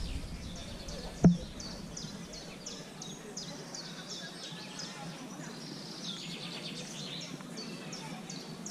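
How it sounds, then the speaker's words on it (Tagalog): Small birds sing in a tulip garden, repeated bright chirps and short trills at a moderate distance over soft background noise, with a single sharp knock early on. "Gusto ko talaga yung ganyan ang huni ng ibon."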